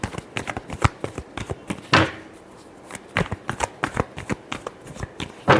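Tarot cards are shuffled close by, giving fast repeated papery flicks and riffles in quick bursts with one brief pause, with no voice over them.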